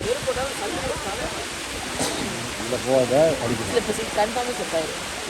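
Water from a low-flowing waterfall in Kodaikanal rushes as a steady broadband wash throughout, with people's voices talking and exclaiming over it, louder in the middle.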